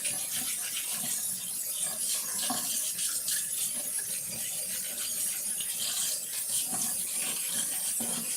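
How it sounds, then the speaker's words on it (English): A vegetable brush scrubs potatoes in a steady, continuous rasping rub at close range, with faint kitchen clatter underneath and no pauses. "I have a brush. They're just for the potatoes. So that's what I'm doing. I'm scrubbing it really good."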